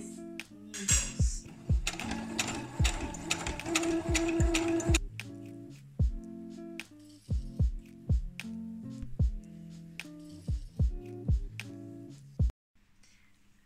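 Sewing machine stitching a viking tunic, running in short bursts of rapid clattering needle strokes separated by pauses, with mechanical clicks and a steady whir, close and fairly loud.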